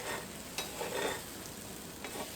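An egg fries in a pan for a breakfast wrap, giving a faint, steady sizzle with a few soft scrapes and taps of a utensil, and no talking.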